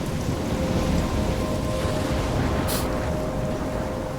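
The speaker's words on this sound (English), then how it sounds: "I'm trapped in a storm?" Steady heavy rain with a low rumbling thunderstorm fills a stormy scene in the video game Life is Strange, a constant loud wash of downpour with a faint tone running through it.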